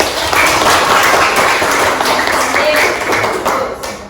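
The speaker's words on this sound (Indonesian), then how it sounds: "Oke, tepuk tangan." A group, likely a class of students, claps hands together loudly and continuously in a classroom, a dense wash of clapping that fades slightly near the end.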